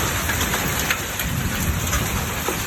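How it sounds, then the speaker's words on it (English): Storm with rain and small hail, a dense continuous patter and hiss of drops striking surfaces nearby, steady and loud with no talking. "Still got some small hail in it."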